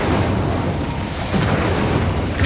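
A fire spell is cast in the Hogwarts Legacy video game, heard as a loud, dense, continuous roaring burst that fills the whole moment with booming, crackling energy.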